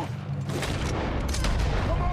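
A dense, rolling fusillade of gunfire fills the scene in Red Dead Redemption 2, loud and continuous with overlapping shots and booms throughout, and a voice is heard briefly beneath it.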